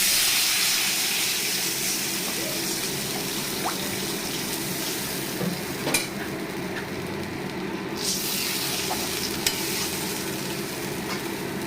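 Water poured into hot oil with chillies, a dense, continuous hiss and bubbling sizzle that holds steady throughout, close by, with faint clicks of utensils and no talk.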